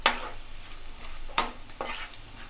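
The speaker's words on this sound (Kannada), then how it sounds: "ಮೆಣಸು ಜೀರಿಗೆ ಎಲ್ಲ ಎಣ್ಣೆಯಲ್ಲಿ ಚೆನ್ನಾಗಿ ಫ್ರೈ ಮಾಡಿಕೊಳ್ಬೇಕು." Chilies and cumin fry in hot oil, a soft sizzle broken by a few scraping stirs of a spoon in the pan, close and fairly quiet, no speech.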